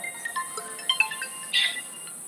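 A mobile phone ringtone chimes as a short melodic phrase, fairly soft and close in a quiet room, with no talk over it.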